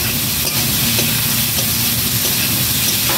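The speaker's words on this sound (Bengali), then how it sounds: "পেঁয়াজগুলোকে একটু লাল লাল করে ভেজে নেব।" Onions fry in oil with a pinch of salt in a pan, a loud, constant, close hiss and crackle that fills the whole stretch evenly, with faint stirring beats and no talking.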